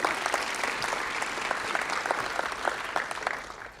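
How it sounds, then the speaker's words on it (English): An awards-ceremony audience in Kiowa County applauds Reagan Heft after her $3,000 essay prize: steady, dense clapping from a crowd at a moderate distance, holding evenly for a few seconds with no voices over it. "Clap it up for Reagan."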